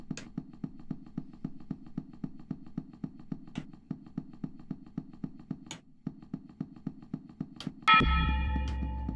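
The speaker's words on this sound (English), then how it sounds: "Church bell, calm down." Loud church bell in the horror game Fear & Hunger 2: Termina, clanging in a fast, steady repeating rhythm with sharp metallic peals, ending in a heavy crash.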